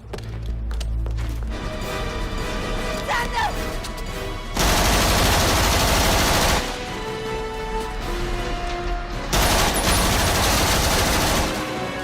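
Sustained bursts of rapid automatic fire from FN rifles in the film Heat, loud and dense, broken into several long volleys with brief gaps and a faint voice in between.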